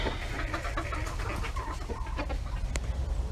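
Hens clucking and murmuring close by, a steady stream of short calls over a low rumbling background.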